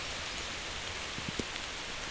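Light rain patters steadily on a tent pitched beneath sheltering tree cover during a thunderstorm on a kayak camping trip, a soft even hiss with a few close, sharper drops landing near the end.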